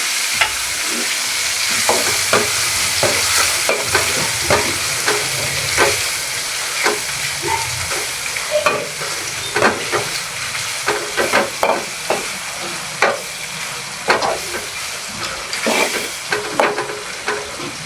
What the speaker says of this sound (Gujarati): હવે તેમાં નાખવાનું છે ટમેટા નાખીને આપણે તેને મિક્સ કરવાનું છે.